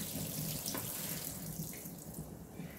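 Tap water runs steadily into a bowl while rice is rinsed for vegan spam musubi, a close, continuous splashing stream with no voices.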